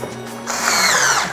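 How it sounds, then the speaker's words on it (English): A power drill fitted with a 4mm bit whirs up to speed driving a screw, running steadily for under a second, a close, high-pitched motor whine with a faint low hum underneath. "take your drill and your 4mm bit"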